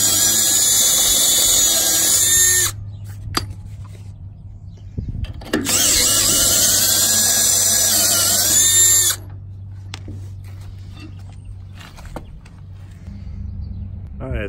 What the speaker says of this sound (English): so I got all the lug nuts off